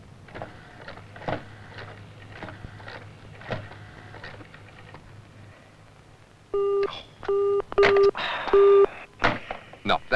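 A 1970s office telephone call drops, leaving a repeating electronic line tone in loud, evenly spaced beeps after several seconds of faint broken voice-like sounds.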